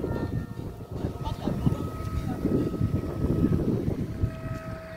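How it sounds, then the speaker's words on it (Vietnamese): Strong wind gusts buffet a 4.5-metre flute kite being flown outdoors, a loud, close, continuous rumble with steady faint tonal hums running underneath. "Úi trời, gió."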